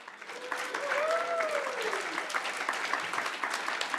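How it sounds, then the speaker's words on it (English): Audience at a civic PechaKucha lightning-talk event breaking into applause, a thick even patter of many hands that swells and holds, with a brief tonal whoop-like sweep riding over it early on. "Let's give another round of applause to all the time travelers."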